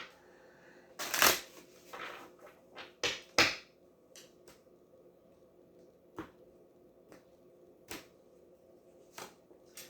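Tarot cards shuffled by hand in irregular bursts, a loud riffle early, then several sharp snaps and taps scattered across a quiet background.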